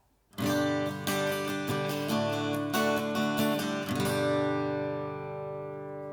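A clean, dry carbon fiber acoustic guitar strums a few chords, with bright ringing strings that let the final chord decay naturally and no added echo.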